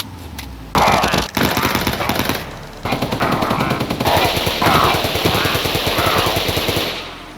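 Rapid submachine gun fire from a modern combat mod in Minecraft, loud dense automatic bursts rattling in quick succession with brief gaps between volleys.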